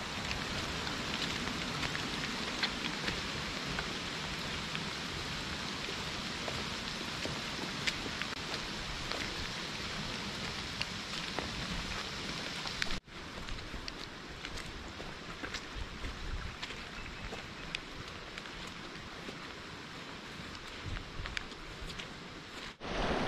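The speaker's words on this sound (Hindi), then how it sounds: "काफ़ी ज़्यादा बारिश भी हो रही है" Heavy rain falls steadily on a mountain trail on the way to the Anusuya Mata temple, a dense, even hiss throughout with a brief drop partway through, no voices.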